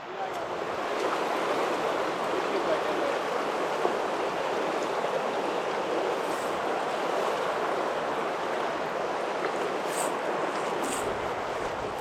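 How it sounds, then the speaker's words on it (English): A powerful Wyoming river rushes in a continuous, dense, broadband roar of flowing water that stays loud and steady throughout, with no talking heard. "This river is very powerful."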